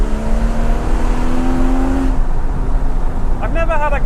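A Porsche Cayman GT4 drives past trees, its exhaust a loud steady drone that drops in pitch as it goes, with the engine note rising briefly near the end.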